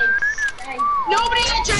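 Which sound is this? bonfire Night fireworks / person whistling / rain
person whistling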